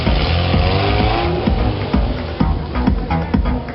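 A stunt car balanced on two wheels at a show, its engine droning loudly and continuously with tire noise and a few sharp knocks and thumps.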